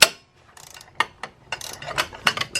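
Motor mount brackets on a 2018 Honda Accord being loosened with a ratchet, a run of sharp, uneven clicking bursts close by, separated by brief pauses.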